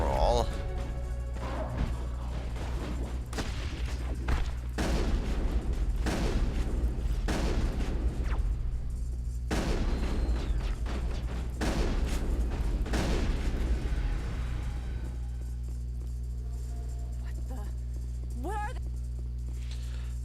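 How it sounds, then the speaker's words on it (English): Repeated heavy booms and blasts fill a Mass Effect firefight, coming in loud bursts over a steady low hum before the action thins out toward the end. "But I love that explosion thing."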